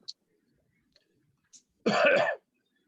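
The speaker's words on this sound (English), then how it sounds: "You only ever want to cough the minute you want to speak" A single short, rough throat clearing with a cough-like burst, close and fairly loud, after a few faint small sounds in a quiet room.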